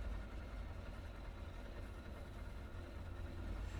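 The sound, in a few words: Trimotor airplane engines idling in a flight simulator video game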